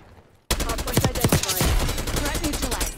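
Rapid gunfire in the video game Black Ops 6, a loud, sustained stream of close shots that starts abruptly after a brief quiet moment.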